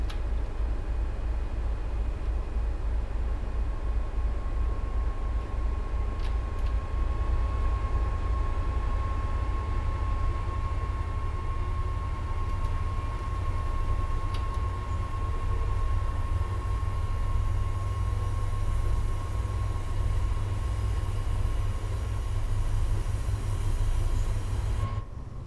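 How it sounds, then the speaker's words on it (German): A train in Train Sim World 5 on the Boston–Worcester line pulls away, heard from outside: a loud, steady rumble with a sustained tone running throughout and no voices. "Und wir hören uns das Ganze mal von außen an, wenn der Zug losfährt."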